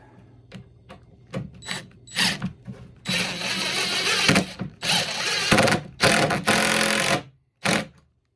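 A power drill drives a 3-inch decking screw into the wood of a Layens beehive being assembled, starting with short stuttering bursts and then longer whirring runs, close and loud, with no talk.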